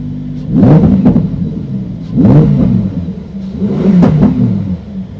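2020 Lamborghini Huracan EVO in Corsa mode, engine revving in three loud surges with hard gear shifts, a deep rumbling roar rising and falling close by.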